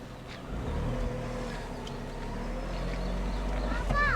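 A car idles and creeps along at low engine revs during reversing practice, a steady low rumble rising slightly near the end, while people talk over it.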